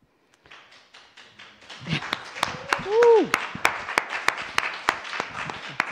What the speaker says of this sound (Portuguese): grande aplauso para as autoras desse filme